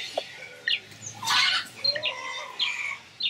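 Birds chirping outdoors, scattered short tweets and calls at moderate distance, with a brief rustle or flutter in the middle and faint background hiss.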